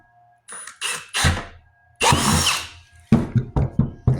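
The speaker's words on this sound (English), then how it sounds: "So I'm going to drill a hole right here." A power drill with a 3/8 inch bit bores a hole while a chicken water cup is installed, heard as a series of loud, close whirring bursts that start and stop, with a few short pulses at the end.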